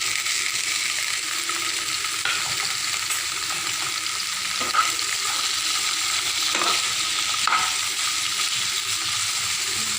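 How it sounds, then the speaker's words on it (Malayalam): Mustard seeds pop and sizzle in hot oil while tempering for a koorka (Chinese potato) curry. The frying hiss is continuous and close, broken by a few sharper crackles and pops, with no voices. "കടുക് പൊട്ടുന്നുണ്ട്."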